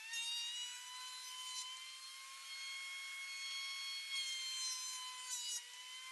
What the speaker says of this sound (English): so we're going to thickness plane it now, and it's going to be several passes